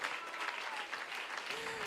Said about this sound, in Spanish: ¿Por qué no aplaudir a este hermoso Dios?